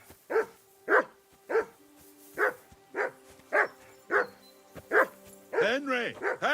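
A dog barking in the medieval video game Kingdom Come: Deliverance II, about ten evenly spaced, fairly close barks, then a run of whimpering yips at the end, with faint background tones.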